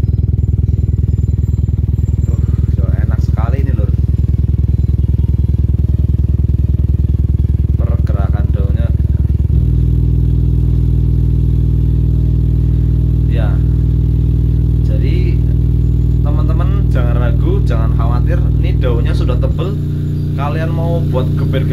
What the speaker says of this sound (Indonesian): Ini tadi saya coba untuk audio sweep frekuensi 25 sampai 150 Hz.